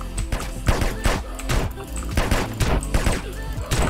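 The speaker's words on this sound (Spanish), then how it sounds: "Tirador, disparos." Gunfire in the video game GTA San Andreas crackles in rapid bursts of shots, loud and close, in a short busy exchange with faint background game noise.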